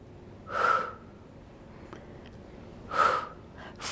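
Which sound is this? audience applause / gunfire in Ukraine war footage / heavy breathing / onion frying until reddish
heavy breathing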